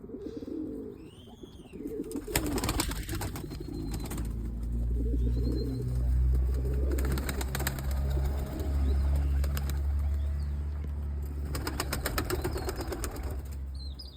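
Pigeons flap and flutter in bursts over steady outdoor rumble, with soft cooing and a few chirps mixed in nearby.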